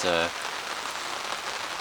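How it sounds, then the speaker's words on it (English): Steady light rain patters on surfaces at a fall campsite in Temagami, Ontario, a constant close hiss of drops that continues after a brief voice at the start. "It pretty much rained all night, like sporadically."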